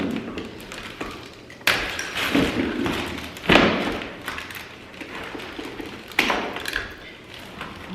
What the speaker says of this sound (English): I'm just going to unhook the strings on the hose